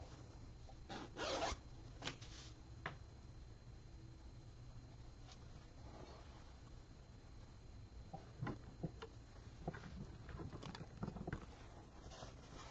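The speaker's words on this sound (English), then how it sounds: "Go ahead and open your zipper again." An invisible zipper is drawn open along sewing fabric, giving quiet, close raspy zipping bursts at irregular intervals, with soft rubbing and handling of the cloth between pulls.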